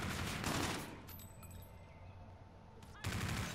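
Rifle fire from an M1 in a first-person shooter match, heavy crackling shots bursting loud at the start and again near the end, with a quieter lull of game ambience and faint tones between.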